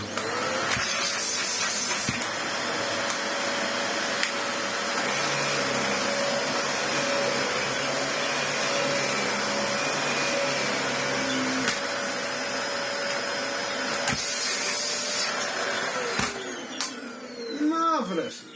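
A repaired Dyson DC25 or DC50 vacuum cleaner running with restored suction, a steady loud whining roar held for most of the stretch, with brief clicks and a change in pitch near the end.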